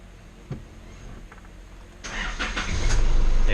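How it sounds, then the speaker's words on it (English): An Isuzu D-Max diesel engine cranks and fires up after a fuel filter replacement, a faint click first, then a rising starter churn that catches into a loud, steady diesel idle. "The car fired up straight away."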